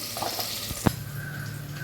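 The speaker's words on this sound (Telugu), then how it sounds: "ఈ వాటర్ అన్నీ ఇంకిపోయే వరకు ఇలా ఫ్రై చేసుకోవాలి" Prawns frying in a pan with ginger-garlic paste while their water cooks off: a soft, faint sizzle with one sharp utensil clink partway through.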